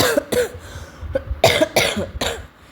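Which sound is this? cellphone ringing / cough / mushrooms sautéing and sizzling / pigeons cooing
cough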